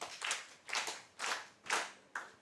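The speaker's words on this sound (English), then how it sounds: "No, Emily deserves a better hand clap." Five short bursts of hand clapping from a small audience at a working group annual dialogue in Uganda, each burst lasting about half a second with brief gaps between, moderately near and without talk.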